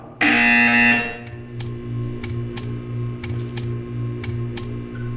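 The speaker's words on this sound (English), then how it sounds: "You will hear a buzzer." An electronic buzzer in the video game Portal 2 blares for about a second, then a steady hum continues with a series of sharp regular clicks or ticks.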